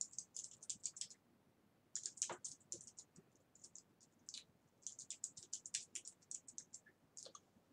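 Computer keyboard typing while entering domain credentials to remove an HPE Nimble storage array from Active Directory: close, quick bursts of crisp key clicks with short pauses between them.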